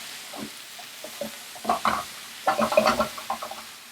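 Veal osso buco ingredients stirred in a pan, giving scattered scraping and soft sizzling clatter, sparse at first and then a denser cluster of stirring noises midway through, moderately close with no talking.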